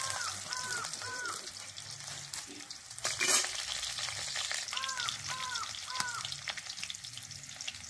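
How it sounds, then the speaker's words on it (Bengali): Potatoes frying in a wok crackle and sizzle steadily while a spatula stirs them, with scraping strokes in repeated bursts and a louder clatter near the middle, close and moderately quiet. "এবার একটু নাড়তে হবে।"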